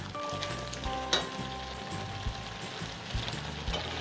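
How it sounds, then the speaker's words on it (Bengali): Carrot halwa with added sugar and water simmering and being stirred in a pan, with a soft steady sizzle, scraping stirs and a few clinks of the spoon, close up and without talk. "মাঝে মাঝে নাড়া দিয়ে দিয়ে শুকিয়ে নিতে হবে।"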